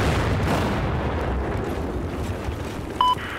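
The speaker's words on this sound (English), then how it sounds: "just set the C4." A C4 charge detonates in Battlefield 4 on the Shanghai map, filling the clip with a loud, sustained booming rumble that rolls on without a break.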